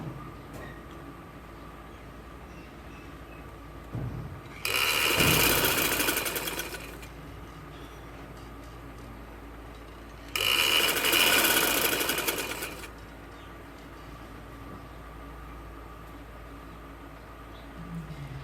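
A sewing machine stitches along the edge of a ladies' shameez in two short, loud bursts of rapid, even needle clatter, separated by a quiet pause with low background hum.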